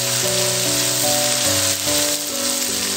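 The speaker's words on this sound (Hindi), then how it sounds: "प्याज हमारा गोल्डन ब्राउन हो चुका है, हम साथ लहसुन अदरक का पेस्ट, टमाटर और हरी मिर्चें भी ऐड कर देंगे।" Garlic ginger paste, tomatoes and green chillies frying with golden-browned onions in a pan, a loud, steady, close sizzle that continues without a break and with no talking.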